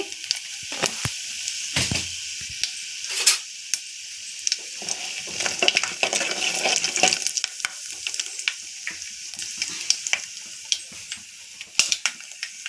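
Peanuts, mustard seeds and cumin seeds frying in hot oil for upma, a steady crackling sizzle with scattered sharp pops and spits and occasional scraping of a spoon in the pan, close up and without speech.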